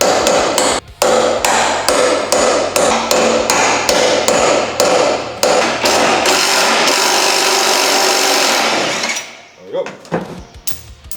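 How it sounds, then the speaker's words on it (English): Rapid, loud hammer blows ring out in a steady rhythm on metal or wood, close by, while stripping a truck, then stop, leaving some quieter handling noises. "I'm gonna need a hammer."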